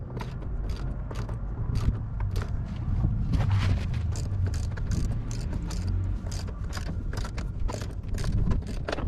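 A ratchet wrench backs a long bolt out of a 1976 Jeep J20, giving a continuous close run of rapid clicking and mechanical grinding throughout, with no voices.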